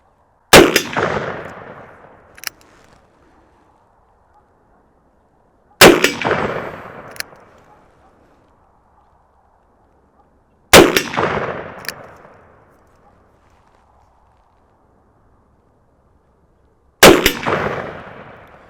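Four loud shots from a Ruger New Model Super Blackhawk Bisley .454 Casull revolver, each a sharp blast followed by a metallic clang on a big steel target, spaced several seconds apart with decaying ring and silence between.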